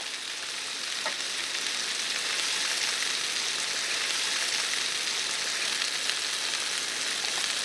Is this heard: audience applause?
no